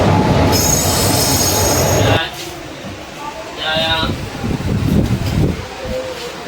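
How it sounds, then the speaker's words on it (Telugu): A delayed passenger train pulls into a station, its wheels squealing loudly and high-pitched before giving way to rumbling cars, softer metallic squeals and clatter, with people talking nearby. "ట్రైన్ వచ్చేసింది, 40 మినిట్స్ లేట్ ట్రైన్ వచ్చేసింది ఇంకా"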